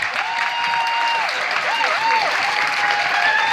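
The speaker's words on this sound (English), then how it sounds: "Y'all give these young men a round of applause." An audience at a dinner event in Detroit gives sustained, dense applause, loud and continuous for several seconds, with a whistle cutting through the clapping.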